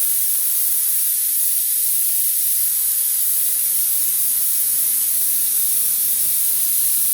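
Rear motorcycle brake bleeder valve cracked open during bleeding, a loud steady hiss running throughout, with a short duller stretch partway through.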